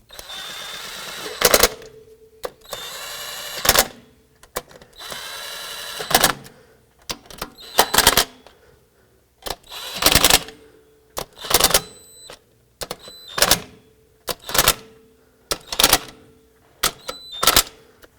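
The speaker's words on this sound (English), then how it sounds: "I'm just gonna run them down with my impact, and then I'll come back and torque them." An impact wrench runs down the intake manifold bolts on a 2003–2007 Nissan Murano during an intake gasket job, firing in a string of loud, close hammering bursts of varying length with short pauses between bolts and no speech.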